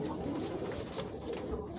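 Pigeons fighting over nests at the start of the breeding season, heard as a steady low cooing murmur with scuffling that carries on throughout at moderate volume.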